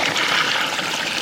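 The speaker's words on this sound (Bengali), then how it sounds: "এবার জল দিয়ে দাও, হ্যাঁ জল দিয়ে দাও" Water poured into a simmering pot of duck curry in a Bengali village kitchen, a steady close rush and trickle of liquid that lasts the whole moment with no talk.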